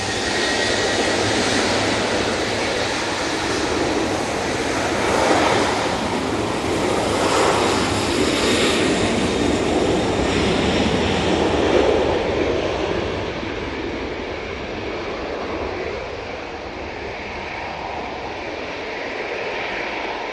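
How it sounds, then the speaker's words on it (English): A TUI Boeing 737-800 taking off from Manchester Airport, a powerful broad engine roar that fills the whole stretch, loud and close at first and then easing slightly as it climbs away. "That TUI 737-800 is off to Zakkenbos."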